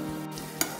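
Onions frying to golden brown in a pan give a steady soft sizzle, with one quick stirring scrape near the end of the short moment.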